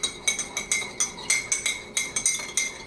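A spoon clinks repeatedly against a glass while stirring Jameson whiskey and sugar, about a dozen bright, evenly paced taps, close and fairly quiet, with no talking.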